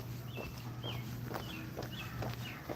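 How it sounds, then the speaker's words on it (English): Outdoors on an evening walk, birds chirp in short repeated calls at moderate distance, spaced about half a second apart over a steady low hum of ambient noise and footsteps. "We hear our birds."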